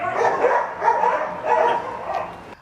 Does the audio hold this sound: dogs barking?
yes